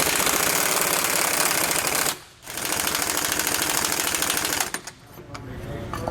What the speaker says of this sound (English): we're using a very big impact gun to do so.